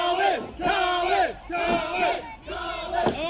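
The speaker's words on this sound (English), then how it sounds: "This crowd has just erupted." A wrestling crowd roars and chants in loud, rhythmic waves, a near-continuous swell of voices rising and dipping in repeated bursts.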